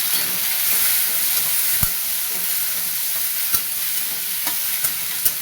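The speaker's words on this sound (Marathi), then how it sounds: "टोमॅटो टाकून घेऊया जाडसट केल्याला एक टोमॅटो आहे त्याला चांगलं परतून घेऊ" Onion and chopped tomato sautéing in a pan for a tiffin-style dry okra dish make a continuous bright hissing sizzle, with occasional spatula taps and scrapes punctuating it, loud and close, with no voices.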